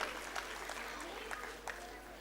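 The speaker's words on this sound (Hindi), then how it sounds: "इस मंच के लिए हम तालियों के साथ अभिनंदन करें" Faint, distant applause rises from the audience at a dance festival honouring dance gurus, a soft wash of clapping with a few sharper claps and a voice talking over it.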